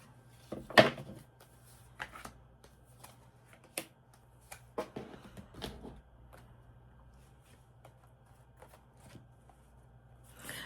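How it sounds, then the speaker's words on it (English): A deck of tarot cards is shuffled by hand in a quiet room, with several short, crisp riffling bursts and soft card taps spaced irregularly. "I'm going to have to do 2 more shuffles."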